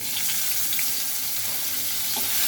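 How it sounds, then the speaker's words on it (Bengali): Small shrimp fry in hot mustard oil in a kadai, giving a loud, even, continuous hiss of sizzling with a few faint pops, close up and alone. "মাছগুলো একটু ভেজে নিব"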